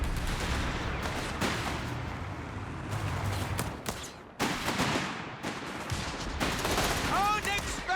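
Strafing gunfire from a Luftwaffe aircraft in Company of Heroes 3, a dense loud burst of rapid shots with explosions in a chaotic battle mix, broken by brief pauses.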